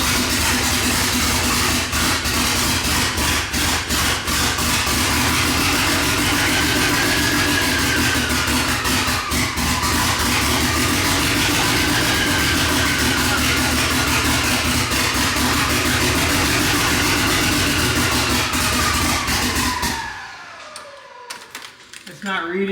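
Built-engine Mitsubishi Evo 9 with a new turbo idling, a steady loud rumble with a high whine rising and falling over it, running continuously until it cuts off near the end.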